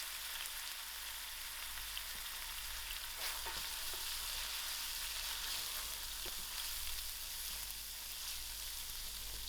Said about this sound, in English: add in my ginger garlic. And also my curry leaf.